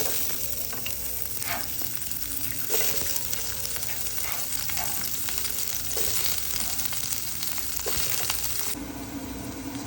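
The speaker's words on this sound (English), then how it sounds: "In my pan, I have some coconut oil going already, so that's heated. I'm going to add my onions" Onions sautéing in hot coconut oil in a pan, a steady close sizzle and crackle that runs throughout with occasional stirring scrapes, no voices.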